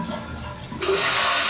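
A toilet flushes after its lever is replaced: a quiet trickle of water, then a sudden loud rushing flush that starts abruptly and keeps roaring to the end.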